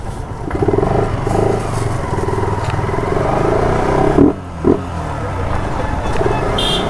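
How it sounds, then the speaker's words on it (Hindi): A motorcycle is ridden along a road on a cool evening. The engine drones steadily and close by. Its note shifts briefly partway through, and traffic sounds can be heard around it. "ठंडी ठंडी शाम में बाइक चलाने में मज़ा बहुत आ रहा है"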